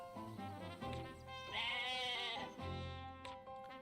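A goat in Atelier Ryza DX bleats several times in close, loud, wavering cries with short pauses between them.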